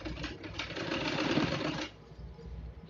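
Close-up of a sewing machine stitching two layers of cloth together, a busy rattling whir that runs for nearly two seconds and then stops, leaving quiet room tone.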